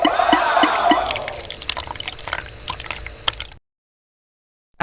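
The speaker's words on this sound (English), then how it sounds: "Water is being pumped to another tank." A small pump pushes water into another LEGO tank, starting with a bubbling, gurgling pour that tapers into scattered drips and trickles before cutting to silence.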